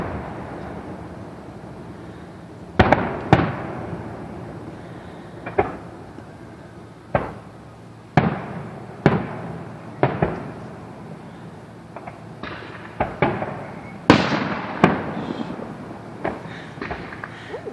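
Fireworks go off around a residential backyard at night, a series of irregular sharp bangs and booms at varying distances, some loud and close, others fainter, with crackling tails between them.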